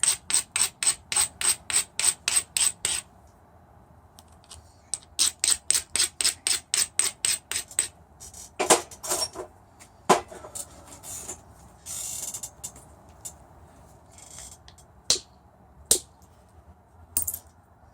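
Flintknapping on a difficult rock with a smaller bopper: bursts of rapid, evenly spaced sharp taps in two long runs, then scattered louder clacks, scrapes and isolated knocks, close and clear with no talking.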